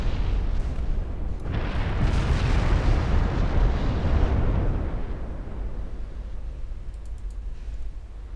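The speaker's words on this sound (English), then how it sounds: "Everyone else is firing as well." Gunfire and explosions in a naval strategy war game set in a 1947 Norwegian campaign roll together as a dense, loud rumble of booms that swells and then fades, with faint clicks near the end.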